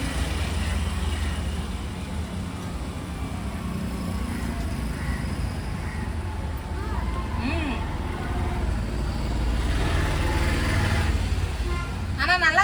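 Steady road traffic rumbles past on a nearby street, a continuous low drone of cars and heavier vehicles going by with a brief swell near the end, and faint voices mixed in.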